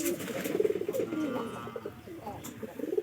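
Pigeons coo repeatedly at a pigeon loft, their low rolling calls close and fairly loud over a busy background, with faint human voices mixed in.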